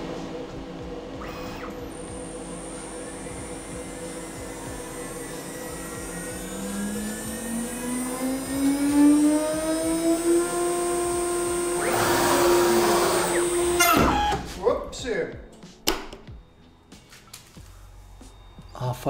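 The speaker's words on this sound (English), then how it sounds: "Let's chamfer this bad boy." A CNC router with a 2.2 kW Chinese spindle and HY VFD chamfers a part, its spindle whine rising in pitch and then holding steady under cutting noise, close and loud, before stopping abruptly with a crash and some speech.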